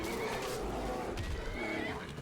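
A horse in the video game Skyrim gives a loud, close whinny over a busy game background of rumbling and ambient noise, with no voices.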